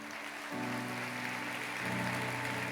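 A church congregation applauds during a sermon, a broad continuous clapping texture swelling in two steps against a sustained low organ-like tone, fairly faint and distant.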